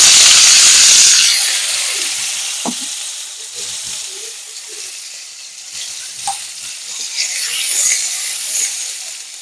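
Onion paste frying in hot oil in a kadai for egg curry, a steady sizzle with occasional stirring clatter, loud at first and then softer, with no voice.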